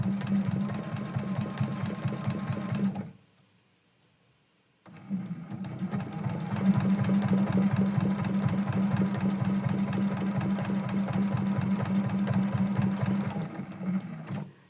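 Sewing machine stitching down raw edge applique on a Christmas quilt block, with a fast, even mechanical chatter, a short pause of near silence, then steady stitching again.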